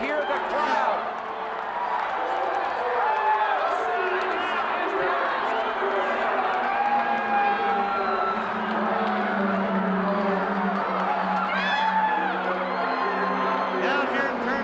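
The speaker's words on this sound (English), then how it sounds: "You should hear the crowd" The crowd at the Indianapolis 500 in the 1990s roars on and on without a break, a broad, loud wash of cheering and shouting that holds steady, with some whoops mixed in.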